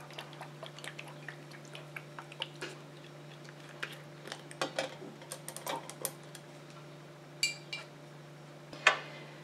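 A bakuchiol serum mixture stirred in a small container, faint light ticking and clicking scattered irregularly over a quiet steady hum, with a slightly sharper clink near the end.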